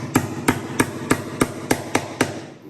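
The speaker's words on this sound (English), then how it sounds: "So I get these half-inch dowels and I like to kind of pound them in first" Hammer blows drive half-inch wooden dowels into the back of a guitar body under construction: eight sharp, evenly spaced strikes, loud and close, each with a short ringing tail.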